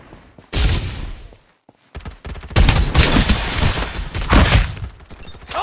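Gunfire in the shooter game Farlight 84, with loud, dense bursts of shots and impacts after a brief quiet gap, continuing close and heavy to the end.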